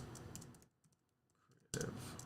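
Quick keyboard typing in bursts, a busy run of key clicks, a short quiet pause with faint scattered taps, then another dense burst of typing, close and alone.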